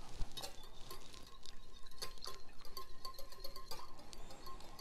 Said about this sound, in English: And then you're just gonna whisk